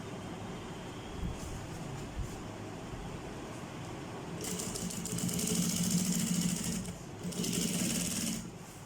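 Sewing machine stitching a crochet bag, a steady close mechanical whir with fast rhythmic needle clatter that speeds up and grows louder in two bursts near the end.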